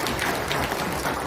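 Audience applause at a Democratic Party talk event with lawmakers Kim Byung-joo and Jeon Hyun-hee, a steady dense wash of many hands clapping at a moderate level throughout, with no voices over it.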